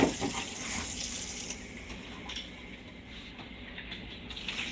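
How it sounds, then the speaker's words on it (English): Tap water runs steadily into a kitchen sink as jars are rinsed on a homestead during mozzarella making, a close, continuous splashing hiss that eases slightly after the first seconds, with no talking. "I'm just gonna rinse these jars out."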